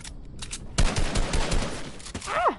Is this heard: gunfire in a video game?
yes